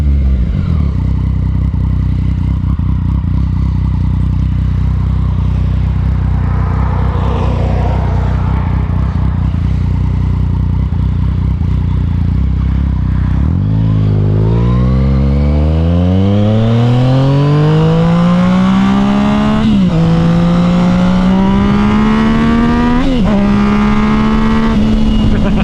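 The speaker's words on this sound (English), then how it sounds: "Oh, that downshift though." A 2016 Yamaha FZ09 motorcycle drones loudly at speed, then drops a gear and revs up, the engine note sweeping upward in rising pulls, close and forceful.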